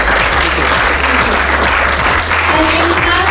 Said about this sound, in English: Can we give Greg a round of applause?